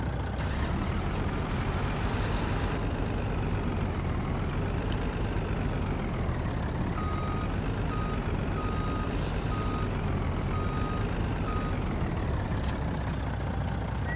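Truck reversing in Farming Simulator 19, its steady engine drone running throughout while a regular reversing beep pulses repeatedly in the second half, with a brief hiss like an air brake partway through.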